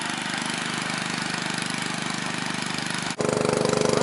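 Small engine on a salvaged scrapyard water pump idling steadily with an even, rapid putter, close and loud, with a brief dip near the end before the same idle resumes.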